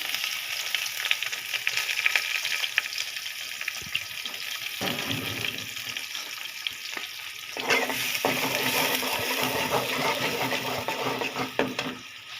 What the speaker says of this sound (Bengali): শুকনা মরিচ দিয়ে ডালটাকে বাগার দিব